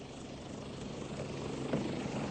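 Helicopter flying over Mallorca, a continuous muffled rotor and engine drone at moderate level, steady and without talk.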